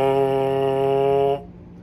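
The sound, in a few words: lips buzzing on a trombone mouthpiece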